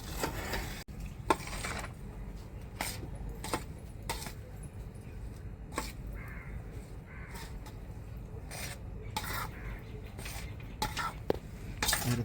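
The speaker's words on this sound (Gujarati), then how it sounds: "આ રીતે ઉપર ચમચાથી બધી બાજુ નાખી દેવાનું છે" Spoonfuls of hot Gujarati tempering are spread over steamed patra, giving a run of sharp metal spoon clinks and scrapes against the dish at an irregular pace, close and fairly quiet, with no talk.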